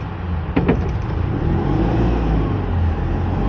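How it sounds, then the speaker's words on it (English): A Citroën 2CV's air-cooled, opposed two-cylinder 602 cc engine of 29 horsepower runs loud and close, a steady rumbling drone pulling away, with a brief knock early on. "the mighty air-cooled two-cylinder opposed 602 cc's, 29 horsepower. And away we go"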